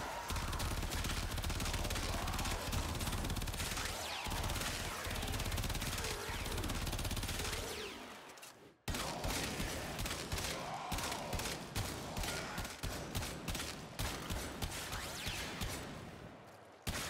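The Kuva Quartakk burst rifle fires in Warframe, first as a dense sustained stream of shots, then after a brief break as a steady series of sharp, evenly spaced bursts, loud and close.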